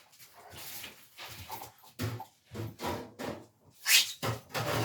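Dogs whimpering and whining indoors in a run of short, close bursts, with a high thin whine rising near the end.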